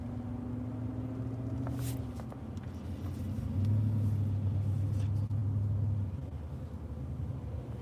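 Low rumbling traffic noise as heard from inside a car, a steady engine drone with a passing vehicle swelling louder midway, no talking.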